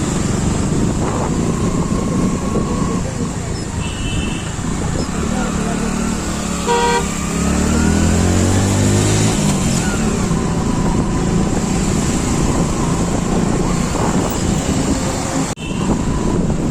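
Cars queued in slow traffic on Amboli ghat, a steady engine rumble with a couple of horn toots and a rising tonal pass mid-way, continuous and fairly close.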